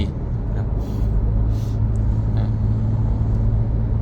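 A 2023 Isuzu MU-X 1.9 automatic rolls along on heavy mud-terrain tyres, giving a steady low road rumble with a few brief higher hisses over it and no speech.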